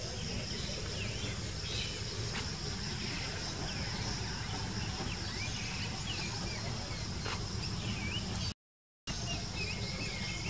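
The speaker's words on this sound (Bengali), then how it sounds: "সকালবেলা অনেক ধরনের পাখির ডাক শোনা যায়।" Various birds calling on a calm morning outdoors: scattered faint chirps and whistles over a constant insect-like hum, fairly distant, with a brief dropout near the end.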